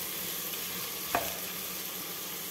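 Vegetables and mint sauté in oil for a milk pulao, giving a soft, steady sizzle with a single brief scrape of stirring partway through, close and fairly quiet with no talking.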